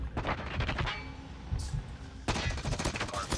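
M16 rifle fire in Call of Duty Mobile, two close bursts of rapid automatic shots separated by a brief lull with faint game sounds, loud and dense.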